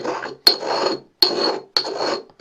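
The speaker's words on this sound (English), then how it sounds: "I've used granulated sugar, so I'm just giving this a good grind together" Granulated sugar ground into a fine powder: three close, rhythmic rasping grinding strokes, each starting with a sharp scrape and fading, alone with no speech.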